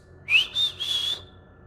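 A person whistles three short, clear tones in quick succession to imitate a whistling sound, the first rising, close and alone against faint background hiss.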